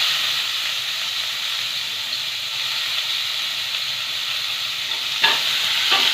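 Dried and green chillies sizzling in hot oil, a loud continuous hiss up close, with a few sharp crackles and spatters near the end and no speech.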